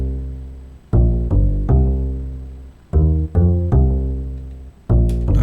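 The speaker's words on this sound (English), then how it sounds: "And then I recorded in bass line." A recorded synth bass line plays alone: deep, sustained notes with sharp attacks that slowly fade, changing pitch every second or so in a loose, steady rhythm, loud and up front.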